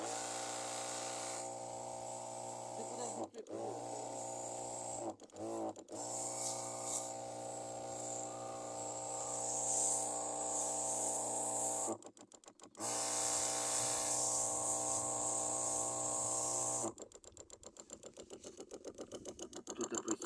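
Battery-powered backpack sprayer pump running steadily with a dense mechanical hum and hiss of spraying, briefly cutting out a few times, then a rapid clicking pulse toward the end.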